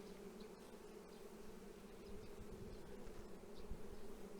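Honey bees buzz steadily over a brood frame in a spring hive, with newly emerged young bees walking about; a dense, continuous low hum close by with no talk.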